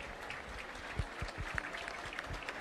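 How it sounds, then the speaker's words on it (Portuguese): Brief, fairly quiet applause from a small audience at an outdoor town festival parade, scattered claps blending into a soft patter. "Uma salva de palmas para todos aqui."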